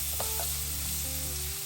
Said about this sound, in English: I'm gonna put the onions and the sausages in.